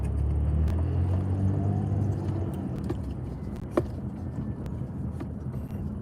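A car drives toward the Chicago office on a city street, its steady low engine and road rumble filling the cabin, with a faint jingle of keys and a brief knock partway through.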